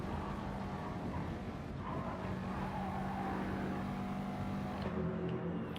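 A race car in the Gran Turismo game at Dragon Trail Seaside roars continuously up close, holding a steady engine drone with a rising harmonic as it carries speed through a gear change after dipping a wheel onto grass, tyres hissing underneath.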